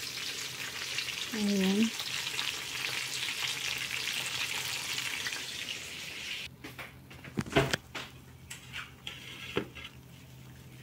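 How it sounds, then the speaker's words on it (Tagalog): Chicken wings, a second batch browning in a pan, sizzle and crackle steadily through the first half. After that come a few sharp utensil knocks and a short spoken word, with a brief birdlike chirp early on. "Ito yung second batch ng chicken wings. Ito natin siyang mag-brown ulit."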